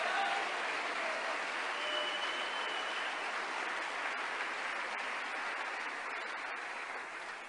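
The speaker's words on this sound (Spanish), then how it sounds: "¡Un aplauso!" A church congregation applauds during an evangelical sermon: dense, sustained clapping fills the room for several seconds and tapers off slightly at the end, with no speech over it.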